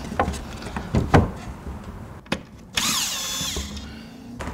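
A power drill undoes screws on a window sash while spiral balances are removed. Knocks and clicks come first, then a close, steady whine of a few seconds that slowly fades.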